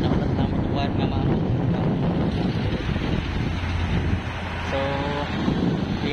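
Wind blowing hard across a microphone high up on an electrical distribution line during reconductoring work, a loud steady rumbling buffet throughout, with someone briefly speaking.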